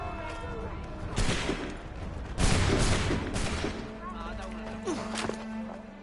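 Musket volleys ring out in Assassin's Creed III, two loud crashing bursts of massed fire about a second apart, followed by fainter scattered shots, with voices and background game sound running underneath.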